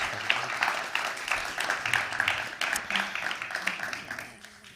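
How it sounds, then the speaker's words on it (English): Moderate applause from an audience at a climate talk: a scattered patter of claps from many people, a few close claps standing out, gradually thinning and fading toward the end. "Little applause."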